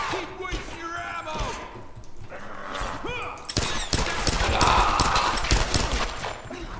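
Enemy gunfire crackles in Tomb Raider (2013), starting as scattered shots and building into a dense barrage of rapid fire and impacts during the second half. Game voices are heard among the shots.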